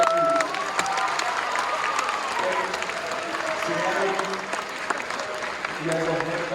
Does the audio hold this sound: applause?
yes